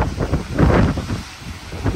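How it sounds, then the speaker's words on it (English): Strong gusting wind from Super Typhoon Mawar in Guam buffets the microphone in uneven, rumbling bursts, loud and close, with no voices. "It's really windy."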